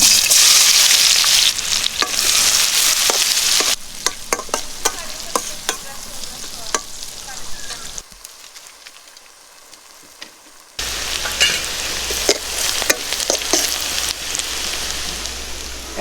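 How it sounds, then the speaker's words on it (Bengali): Chopped onion dropped into hot oil left from frying eggs, sizzling and crackling steadily in a pan as it is stirred, loud and close, with a quieter stretch partway through before the frying noise returns. "এখন আমাদের ডিম ভাজা তেলের মধ্যে দিয়ে দিচ্ছি পেঁয়াজ কুচিটা।"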